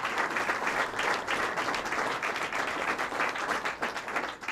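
An audience of long-serving Drug Enforcement Administration staff gives a round of applause during Vice President Pence's remarks, a dense, even wash of clapping that holds steady throughout and sounds fairly close.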